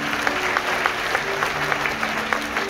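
A church congregation at a Christmas service applauds, dense crowd clapping that keeps up evenly through the whole stretch with a few sharper claps standing out, and no speech on top.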